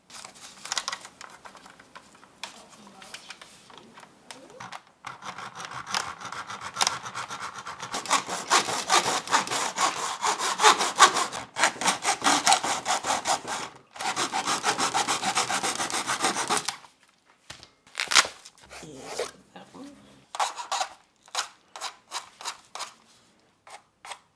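A hand saw cuts through a Nerf Hammershot blaster part held in a cutting block, with steady back-and-forth strokes over about 17 seconds, a short pause, then several shorter, choppier strokes close and clear.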